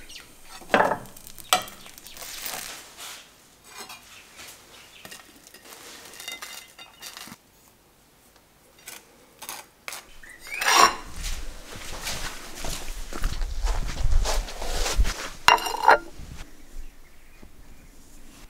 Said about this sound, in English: No toasters here, so this is how my toast in the pan.